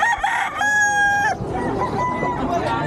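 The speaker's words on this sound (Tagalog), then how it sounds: "Daming manok dito sa Bukawi." A rooster crows loudly and close by at a busy chicken market in Bocaue, Philippines, one long drawn-out call over a background of clucking fowl and crowd noise.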